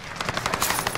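Rapid bursts of automatic gunfire in a military shooter game, a fast string of sharp cracks repeating about every tenth of a second, loud and close, with no talk over them.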